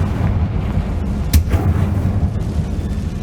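A Confringo explosion spell cast in Hogwarts Legacy: a loud, continuous, rumbling battle din with a sharp blast near the middle, amid other spell effects.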